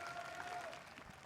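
Hometown fans at a VCT Valorant esports match cheer and applaud in a steady, diffuse crowd roar backing DRX, with tonal arena sounds over the noise and no pauses.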